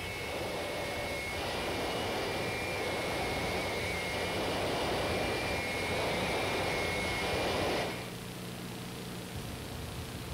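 Cessna T-37 jet trainer on landing with power at idle, a steady broad roar of engine and rushing air that holds for about eight seconds, then drops sharply to a lower, quieter hum.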